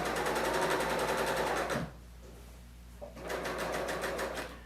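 A Bernina L890 serger stitches fabric in two loud, steady bursts of rapid mechanical whirring, separated by a brief pause with a faint click.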